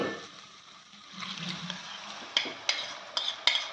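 Pressure-cooked moth beans and mung beans are tipped into a cooking pan of spiced misal gravy. Soft scraping and stirring give way to several sharp metallic clinks of a spoon against the pan, quiet and close.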